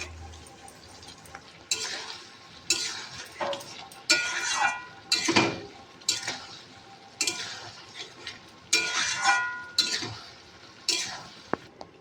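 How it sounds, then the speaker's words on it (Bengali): Fried chicken pieces stirred in a pan for chilli chicken, with repeated scraping and clattering strokes of a spoon against the metal at an uneven rhythm under a low sizzle, close with no talk. "ভাজা করা চিকেনগুলি দিয়ে দিলাম।"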